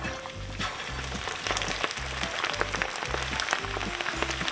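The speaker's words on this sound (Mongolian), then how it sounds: "хайрлын тавган дээр хангалттай тос хийгээд хавиргаа нэг нэгээр нь шарнаа" Mutton ribs frying one by one in plenty of oil on a pan over medium heat, giving a steady, loud sizzle with crackling pops throughout and a rhythmic low thumping underneath.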